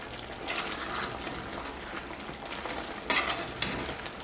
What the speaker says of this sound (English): So I'm gonna add some more water to this.